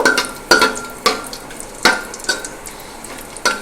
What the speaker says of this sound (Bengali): এই গরম মশলা দিয়েছি দারচিনি আর এলাচ। এগুলোকে হালকা করে নাড়াচাড়া করে নেব।